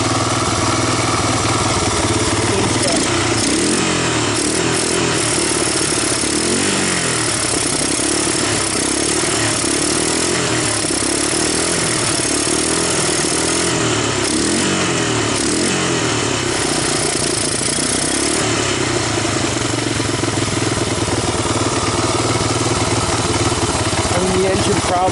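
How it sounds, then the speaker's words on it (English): A 1985 Honda ATC250ES three-wheeler idles steadily with a chugging, slightly uneven beat after carburetor repair, close and continuous throughout with some clatter. "The engine probably would have hurted to break in a little bit."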